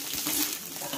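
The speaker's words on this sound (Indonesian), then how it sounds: "langsung aja kita masukkan kentangnya ke dalam sini yang telah kita goreng tadi ya" Pre-fried potato pieces tipped into a hot pan for a soy-sauce beef and potato dish, giving a bright continuous hiss of frying oil with soft stirring scrapes, close and steady.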